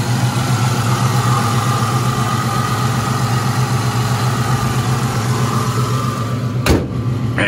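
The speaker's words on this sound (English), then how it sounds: "Listen to the motor." A 1970 Chevrolet Nova's engine idles steadily up close, a loud continuous low rumble with an even pulsing beat, ending with a brief thump near the end.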